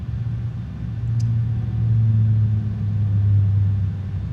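Steady low hum of a ground power unit heard inside a Boeing 747-400 freighter cockpit in a flight simulator. A constant droning rumble with a slight swell, with no voices.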